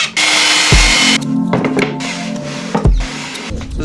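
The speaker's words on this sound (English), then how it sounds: "Let's drill a hole." Close power drill boring a hole in wood for a sleep platform in a Volvo 240, bursts of loud whining motor with grinding bite, a brief spin-down thump and another short burst, no voices.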